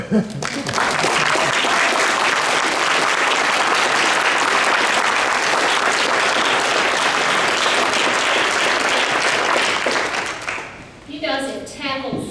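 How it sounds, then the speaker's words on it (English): Sustained audience applause for students at a school banquet, dense and steady for about ten seconds before fading, followed by a voice speaking. "we're going to give you a round of applause for your diligence, hard work, and perseverance"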